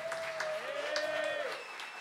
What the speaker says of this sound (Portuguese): Pessoal, pedi por favor uma salva de palmas aí pelos 10 anos da Academia do Rock.